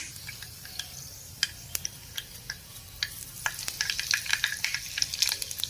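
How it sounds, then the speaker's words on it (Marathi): Cumin seeds, mustard seeds and a pinch of asafoetida sizzle in hot tempering oil for stuffed okra. A soft hiss runs throughout under sharp crackles and pops, which grow thicker and more frequent toward the end. "तर मी जिरं टाकलं आहे, मोहरी टाकली आहे, थोडासा हिंग टाकायचा आहे"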